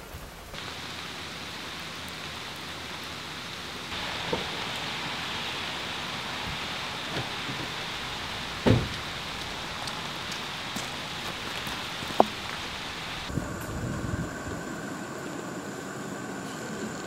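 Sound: rain during a storm

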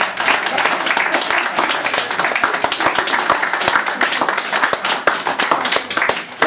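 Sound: audience applause

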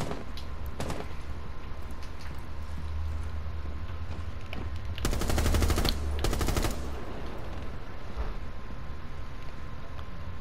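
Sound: gunfire shooting down an enemy in a video game

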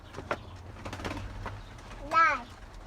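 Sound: birds cooing

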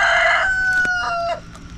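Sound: chickens clucking and rooster crowing

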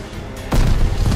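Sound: grenade thrown and exploding in Call of Duty Vanguard video game

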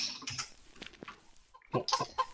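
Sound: chickens clucking in the video game VoxeLibre

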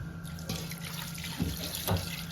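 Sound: water being poured into pot

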